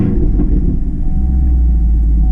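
A warm Camaro SS 1LE V8 with an MBRP axle-back exhaust settles into a deep, loud, steady rumbling idle right after starting, close and continuous with no talking.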